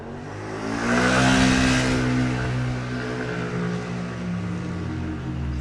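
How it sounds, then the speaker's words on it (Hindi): A scooter engine revs hard at full throttle after a kick start, a loud, sustained mid-pitched roar that swells over the first two seconds and then holds steady, close and continuous with no talk. "और स्कूटर का एक्सीलेटर फुल कर देते हैं।"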